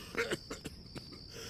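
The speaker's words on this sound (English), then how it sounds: "man stops coughing" A man coughs several times in the video game Dead Synchronicity, a quick run of close, fairly quiet hacking bursts over a faint steady background hum.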